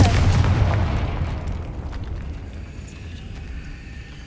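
A Confringo spell explosion in the video game Hogwarts Legacy erupts as one loud, close blast with a sharp onset, then a long rumbling decay that fades over several seconds, with no talk.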